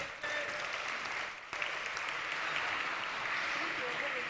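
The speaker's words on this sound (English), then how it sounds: "Yes, a round of applause." Sustained audience applause fills a conference hall, dense and steady, with a brief dip before it swells again and holds at an even level.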